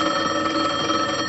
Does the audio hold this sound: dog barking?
no